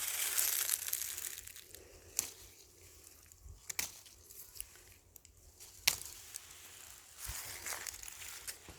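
Fresh green tea shoots are rolled and crushed by hand, making soft, close crinkling and rustling with a few sharper snaps, faint and without talk.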